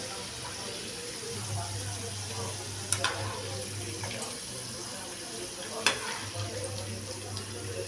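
Chickpeas frying in hot oil, a steady hissing sizzle that holds throughout, with a low background hum and a couple of brief clinks.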